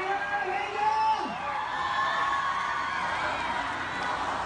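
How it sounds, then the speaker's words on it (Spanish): A crowd cheers and whoops with shouts and yells during a live show in Puebla, celebrating a performer called el Elefante; the roar stays loud and steady throughout, with voices calling out over it. "¡un aplauso para el Elefante!"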